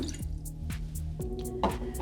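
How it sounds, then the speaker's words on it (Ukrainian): Water poured into a saucepan as the base for a honey and sugar syrup for baklava, heard as a few distinct drips and splashes spaced roughly half a second apart over a low steady hum, nearby and alone. "в сотейнику я змішую 100 мл води"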